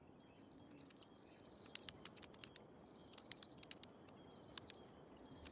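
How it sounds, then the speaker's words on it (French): Male Pacific field crickets (Teleogryllus oceanicus) stridulate at night in Hawaii by rubbing their wings together, giving rapid pulsed chirp trills in repeated bursts over a steady background hum, with no voices. "la nuit, les mâles stridulent pour séduire les femelles en frottant leurs élytres l'un contre l'autre"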